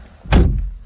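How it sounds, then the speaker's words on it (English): Door of a BMW M235i xDrive Gran Coupe pulled shut from inside the cabin, a single solid, close thunk with a brief low resonance. "close that door."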